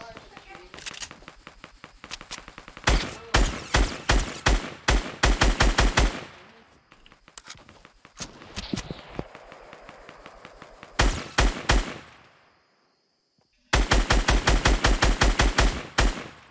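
Rapid automatic gunfire in Fortnite, loud close bursts of evenly spaced shots in several strings separated by brief pauses, with a player talking in between.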